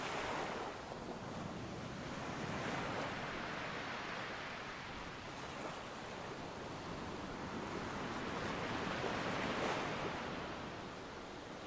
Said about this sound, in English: trying to distance yourself from the sounds of the wind and waves